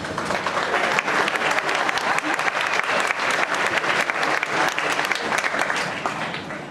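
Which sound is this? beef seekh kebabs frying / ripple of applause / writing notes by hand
ripple of applause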